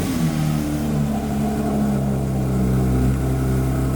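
A Porsche 911 GT3 Touring engine, set in sport mode with the exhaust open, settles into a steady, loud, throaty idle after its first startup, a continuous low rumble that holds alone without talk.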